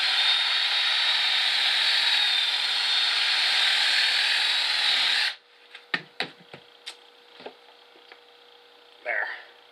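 A steady hiss of machine noise stops abruptly, then a series of sharp, light hammer taps drives a drift into a crack in wood, about eight separate knocks with pauses between them, close and clear.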